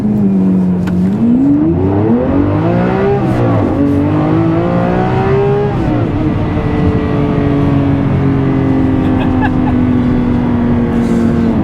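A Ferrari engine revs and shifts pitch up and down, rising through gears then settling into a steady drone, loud and continuous throughout.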